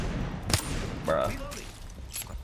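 A single sharp gunshot crack from the Apex Legends battle game, brief and fairly loud, followed by fainter in-game tones and effects under a low, steady background, with no talking.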